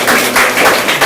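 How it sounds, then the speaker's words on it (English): An audience at a school quiz competition claps briefly, giving a loud, close burst of applause in a few quick surges. "let's just have a round of applause for all of you"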